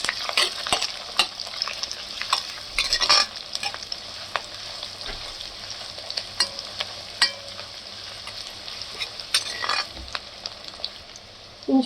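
Onion sautés in sesame oil with bay leaf and cardamom, giving a steady low sizzle broken by frequent sharp scrapes and taps of a spoon stirring against the pan.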